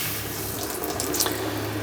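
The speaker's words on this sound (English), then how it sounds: "Can you hear the pump in the background, Brendan?" An RV freshwater pump runs behind a tap filling a sink in a 2026 Jayco Jayfeather, a steady low hum under a continuous rush of flowing water, close and even.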